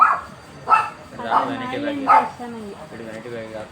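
A dog gives several short yipping barks in an irregular series, close by, mixed with voices talking nearby.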